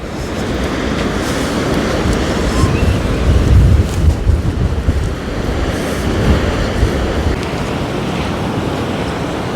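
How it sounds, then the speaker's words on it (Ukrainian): Rough sea surf breaking along the Odesa shoreline in winter, a loud continuous wash of waves with swelling surges and heavy wind buffeting the microphone. "море хвилюється, але красиве"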